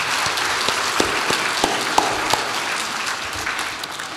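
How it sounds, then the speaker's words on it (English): A conference audience gives a dense round of applause after a keynote speaker's call, a continuous wash of many hands clapping with a few louder individual claps standing out, fading slightly toward the end. "let's give them a big round of applause,"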